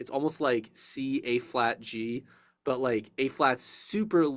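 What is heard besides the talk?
No distinct noise like a dog, phone or traffic.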